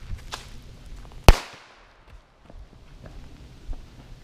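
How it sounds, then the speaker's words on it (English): A single sharp gunshot cracks once, loud and close, then fades quickly, followed by faint shuffling and ambient noise outdoors near a house. "I shot at him, bro."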